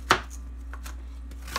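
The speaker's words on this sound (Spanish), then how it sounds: "Lo primero que voy a hacer es cortar la jícama en pedazos más pequeños para ayudar a nuestra licuadora" A knife cuts through jicama on a cutting board for a jicama and cucumber drink, with one sharp chop and a few lighter taps spread out over a low steady hum.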